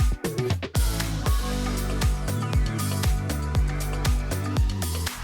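A produced pop track section with big splashes of piano, cymbal crashes and a deep bass line, hitting in steady repeated accents about once a second, loud and full with no talking.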